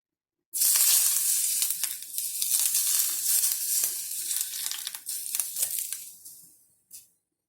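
Hot oil poured over steamed grouper topped with spring onion and ginger hisses in a loud, close sizzle that starts abruptly, crackles steadily for several seconds, then fades to a final brief spit.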